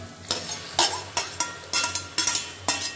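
Chopped tomatoes frying in a pan for a homemade Indian mutton curry, with quick repeated stirring scrapes, about eight sharp strokes over a steady low sizzle, close and fairly loud.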